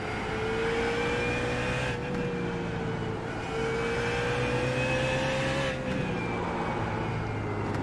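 A BMW race car engine in iRacing at Suzuka drones steadily at high revs, its pitch climbing slowly and dropping briefly at two gear changes, close and continuous with no talk.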